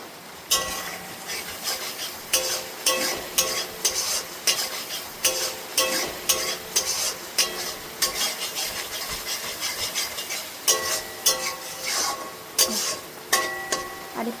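Spice paste being stirred and scraped in a frying pan while cooking Bengali food, a steady run of close scraping and rubbing strokes over a soft sizzle, repeated in quick rhythmic bursts.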